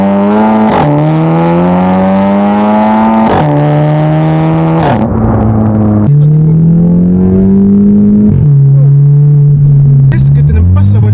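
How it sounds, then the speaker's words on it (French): A Volkswagen Golf 7 GTI engine revs repeatedly on a road drive, each pull rising in pitch before sharp drops at the gear changes, loud and close, with a crackle near the end. "On commence tranquillement, on fait un peu chauffer le moteur."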